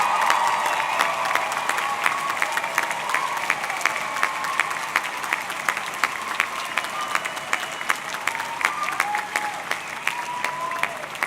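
A college commencement audience applauding as family and friends stand, steady sustained clapping from a large crowd with a few sharp individual claps standing out, no voices.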